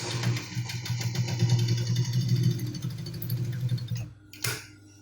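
Sewing machine stitching a back pocket on a pair of trousers, a steady close mechanical whir that runs for about four seconds, then stops, followed by a brief click.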